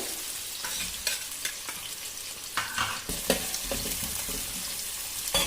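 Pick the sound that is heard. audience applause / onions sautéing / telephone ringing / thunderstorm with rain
onions sautéing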